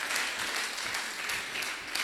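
A crowd applauds a chief executive of a training center, steady dense clapping filling the whole stretch at moderate volume with no voices over it.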